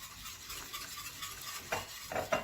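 Food being stirred in a pan, with a steady low scraping hiss and a few sharper spoon scrapes toward the end, close up and fairly quiet.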